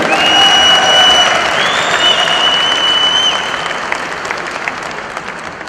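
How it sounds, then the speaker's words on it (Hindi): A large audience claps loudly for 1,800 achievers at a club meet in Jaipur. The dense, steady applause fades somewhat toward the end, and a few faint tones ring above it. "क्या इन सभी 1800 अचीवर्स के लिए एक जोरदार राउंड ऑफ तालियां हो जाए।"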